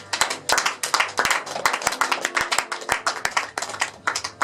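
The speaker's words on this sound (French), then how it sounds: "Est-ce qu'on peut acclamer le Seigneur?" Church congregation clapping in a steady rhythm during a worship service, loud and near, with sharp repeated hand claps and faint cheering voices underneath.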